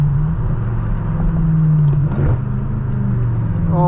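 A stage 2 tuned manual BMW M6 Gran Coupe of roughly 800 to 900 horsepower roars steadily under load, a loud, deep, continuous drone heard from inside the car with a brief dip near the middle.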